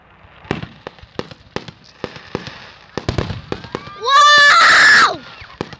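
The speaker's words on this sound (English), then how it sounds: "Those are the fireworks." Canada Day fireworks go off outdoors in a string of sharp pops and bangs, then a loud burst of crackling and whistling. A voice cries out near the end.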